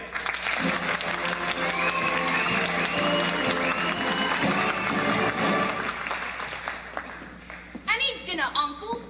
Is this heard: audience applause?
yes